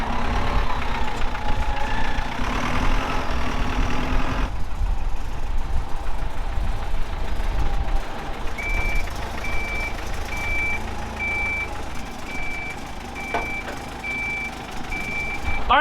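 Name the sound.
old truck engine and reversing beeps while lifting pallets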